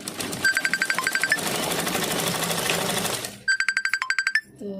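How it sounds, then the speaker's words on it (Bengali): A sewing machine stitching the back and front parts of a blouse together, running in quick rhythmic bursts of clattering needle strokes, close and loud, with a steadier whirring stretch in between. "চলো পুরোটাই সেলাই দেবো"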